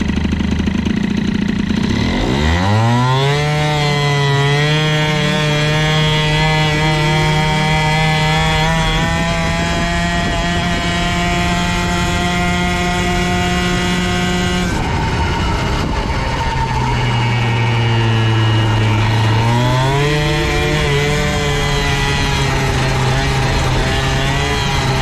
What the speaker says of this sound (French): ça va pas mal ce petit moteur, hein. Avec sa ralenti de la mort